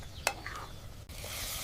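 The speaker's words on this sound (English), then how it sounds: "Today we are making some delicious traditional dal, sizzling with aromatic spices and dried red chilies." Dal sizzles with spices and dried red chilies in a miniature village-style pot, a steady soft frying hiss with a sharp clink of a utensil near the start.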